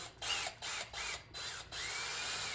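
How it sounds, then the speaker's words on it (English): A power drill on its lowest setting, fitted with a paint mixer attachment, whirs in four bursts, starting and stopping with short pauses, fairly close and steady, the last run held longest. "So I have my drill set at the lowest setting. I bought this little mixer."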